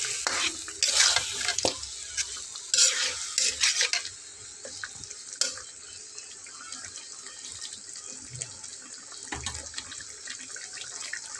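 Chicken pieces stirred in a pot for a home-style chicken and potato curry, with scraping and stirring bursts in the first few seconds, then a quieter stretch with occasional clinks and faint sizzling.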